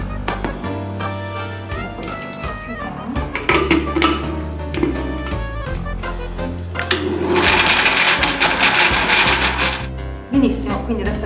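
A countertop blender whirs loudly and steadily, churning coffee gelato scoops with a cup of coffee, its motor pitch shifting and rising to a harsher roar partway through.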